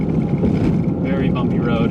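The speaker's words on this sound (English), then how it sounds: "Very bumpy road." A car drives over a very bumpy road during a tornado warning in Evansville, producing a loud, close, continuous rumble of engine and road noise with jolting thumps, while a voice talks over it.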